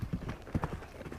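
Horse hooves clip-clopping on the ground during groundwork training, a quick uneven run of close, distinct hoofbeats.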